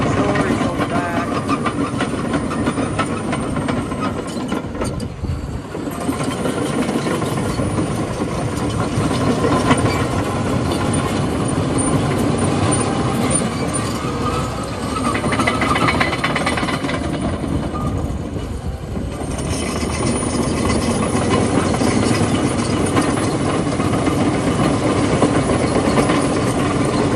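A 2013 Caterpillar D6T LGP bulldozer, fitted with a winch and rear auxiliaries, runs steadily, giving a loud, continuous engine and track rumble with no break and no talk.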